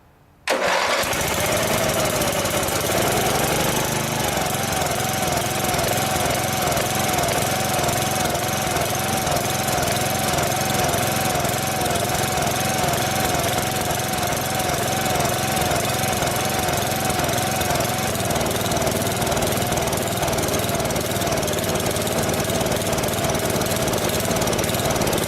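A Lawn Chief 8/30 riding mower engine with a newly replaced carburetor fires up after a brief crank and settles into a loud, steady running roar close by, continuing without pause.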